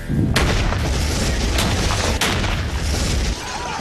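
A high-speed explosive detonates with a sharp, snappy crack and a brief rumbling aftermath, followed by a couple of lighter cracks, loud and close.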